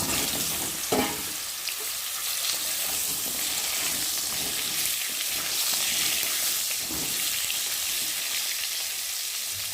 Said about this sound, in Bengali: ওই তেলের সাথে পটলগুলোকে আগে ভালো করে ভেজে নেব।